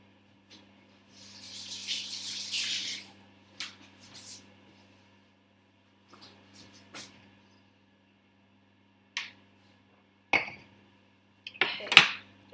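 A brief burst of running tap water while hands are washed in a kitchen sink, followed by sparse clinks and clatter of dishes and utensils with long quiet gaps between.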